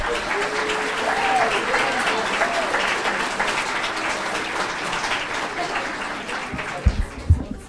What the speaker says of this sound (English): one more round of applause for Memorial.